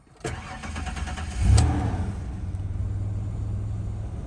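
A 1991 Ford Explorer XLT starting up: a short cranking whir, then the engine catches with a sharp rev that settles into a steady, fairly close idle rumble.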